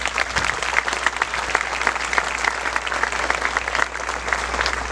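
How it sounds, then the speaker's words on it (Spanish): A church congregation bursts into dense, sustained applause during a Spanish-language sermon, steady and full throughout with a low hum underneath. "Dale un aplauso a esos valientes."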